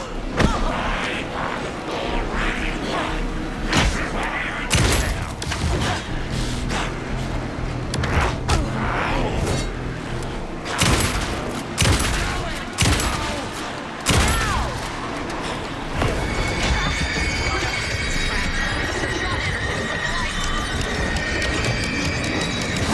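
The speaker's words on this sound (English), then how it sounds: "Anderson, pin him down with gunfire for me to get the light on him." Bursts of gunfire and heavy thuds from the video game Alan Wake 2 crash in irregular volleys over a loud, dense soundscape, with brief voices mixed in.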